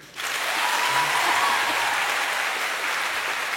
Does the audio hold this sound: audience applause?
yes